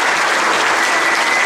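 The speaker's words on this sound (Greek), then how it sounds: "Και τώρα εμείς να υποδεχτούμε ένα μεγάλο χειροκρότημα τη δική μας χοροδία." A hall audience at a Panhellenic meeting of school choirs gives loud, dense, continuous applause to welcome a primary school choir from Skiathos onto the stage. The clapping carries on steadily with no talk.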